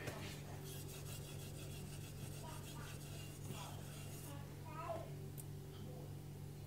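A knife is sharpened on a Morihei 6000 grit whetstone, giving a steady, quiet rubbing scrape that repeats in soft strokes over a low background hum.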